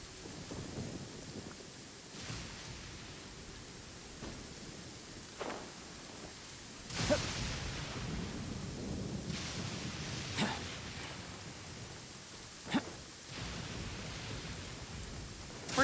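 A thunderstorm in Genshin Impact: steady rain hiss with several rolling thunder rumbles and sharp cracks spread throughout, moderately loud, with no voices.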